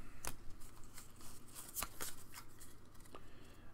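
Tearing open a Pokémon TCG Astral Radiance booster pack: faint, close crinkles and a few sharp rips of foil wrapping in an irregular rhythm, quiet and with no talking.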